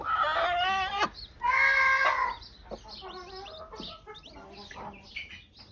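Broody hens raised from the owner's own chicks cluck and cackle loudly up close, with drawn-out, tonal calls and a string of softer clucks and peeps from chicks following.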